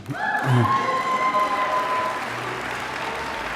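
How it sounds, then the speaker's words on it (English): Applause from the audience at an awards ceremony, a broad wash of clapping that swells early and then holds steady, with a short thud and a faint tone near the start. "You can clap."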